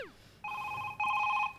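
Telephone ringing during a Marathi stage comedy sketch, two electronic ring bursts with steady tones, the second louder, close and clear with no talk over them.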